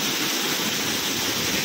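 A waterfall near a home in Kasaragod, Kerala roars as a dense, steady rush of falling water, loud and unbroken with no voices.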